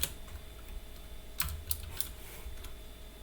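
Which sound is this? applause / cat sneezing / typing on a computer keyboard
typing on a computer keyboard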